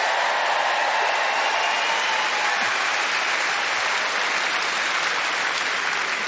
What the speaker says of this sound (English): So just by way of applause, who is actually Scottish?